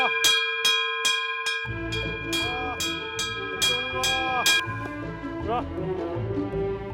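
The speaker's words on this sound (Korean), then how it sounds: "난데없는 종소리가 지리산의 아침을 깨웁니다." A hand bell rings out in repeated sharp strokes on a Jirisan mountain farm, calling a herd of black goats to feed in the morning; the first strokes come alone, then goats and a voice join in beneath the continued ringing.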